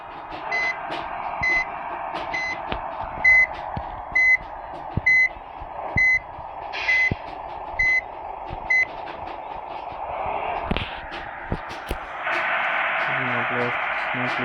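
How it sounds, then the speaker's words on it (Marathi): A loaded truck reverses while its backing alarm sounds a regular series of sharp electronic beeps, about ten evenly spaced pulses over a low engine rumble and murmured voices, before a louder burst of noise at the end. "इथनं गाडी रिवर्सच करावं लागेल"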